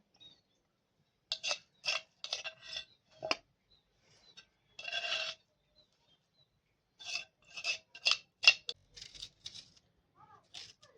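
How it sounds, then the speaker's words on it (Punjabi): Onion and green chillies are pounded together in a mortar, giving short scraping, crunching strokes in two separate bursts with a quiet pause between them, heard close up. "ਪਿਆਜ਼ ਤੇ ਹਰੀ ਮਿਰਚ ਆਪਾਂ ਇਕੱਠੀਆਂ ਕੁੱਟ ਲੈਣੇ ਆ"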